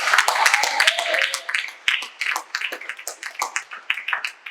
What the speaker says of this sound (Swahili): Natamani uongeze makofi